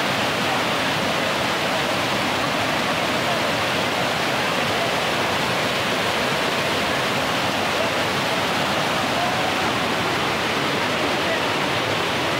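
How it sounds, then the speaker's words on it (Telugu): A waterfall in full flow roars continuously and loudly, a dense unbroken rush of falling water that fills the whole stretch without pause. "full వలుగు water fall"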